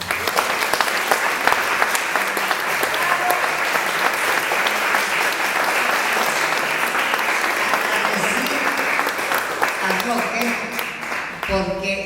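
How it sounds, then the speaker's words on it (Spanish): Sustained, dense applause from an audience at an art exhibition opening in a Montreal museum, steady and loud throughout before tapering off at the very end. "el aplauso para él"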